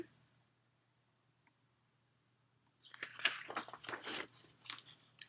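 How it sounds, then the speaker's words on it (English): A dog gnawing and chewing on a bone in a doghouse, a burst of close, irregular crunching and biting sounds that starts suddenly after a quiet stretch and continues in rapid clusters. "Rover's in the doghouse, chewing on a bone"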